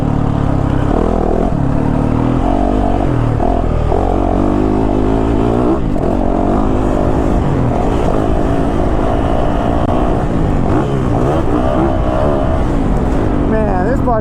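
A 2022 Yamaha YZ450FX 450 dirt bike engine drones steadily and loudly while being ridden, its pitch rising and falling with throttle, close and continuous throughout with a voice talking over it.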